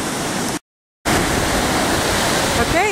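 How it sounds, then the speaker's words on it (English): Wind sweeps a beach on the North Carolina coast, a loud, steady, roaring rush that briefly cuts out to silence before returning just as strong. "out here in the wind on the windy beach"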